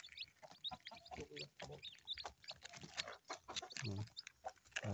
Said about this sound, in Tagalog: Lalabas ko lang yung sisiyo namin.